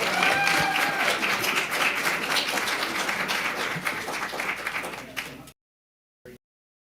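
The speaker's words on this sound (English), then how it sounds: "One more last round of applause for our students." An audience at a school board of education meeting claps for students in sustained, crisp applause that tapers off and stops, followed by silence and one brief faint sound.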